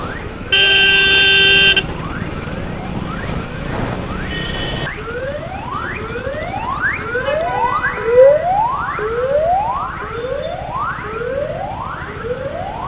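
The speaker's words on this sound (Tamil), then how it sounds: "பின்னாடி ஒரு ஆம்புலன்ஸ் வராங்க." An ambulance siren wails in steady repeating upward sweeps behind a Duke 390 motorcycle on the road, and a short car horn blast sounds first. Engine and road noise run continuously underneath.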